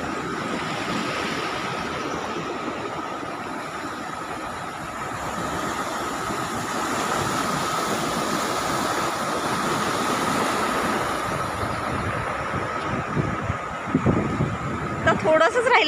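A swollen river rushes near a nearly overtopped dam in the rain, a continuous heavy broadband roar with someone talking over it throughout.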